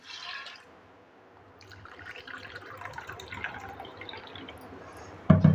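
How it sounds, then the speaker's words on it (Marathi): Water is poured from a cup into a pressure cooker holding lentils, a faint trickle that swells midway and ends with a sharp knock. "दोन कप पाणी घेतलं मी ह्याच्यामध्ये"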